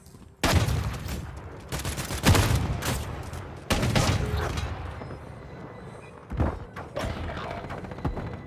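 Gunfire in Modern Warfare III multiplayer Search and Destroy, loud bursts of shots and heavy thumps in irregular clusters, some rapid automatic fire, close and dominating with little else heard.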